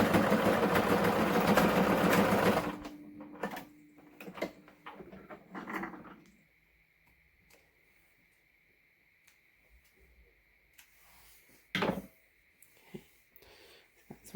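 A sewing machine runs a straight top stitch along a fabric face mask, starting as a steady loud whirring burst for a few seconds, then fading into scattered clicks, handling noises and one short sharp tap.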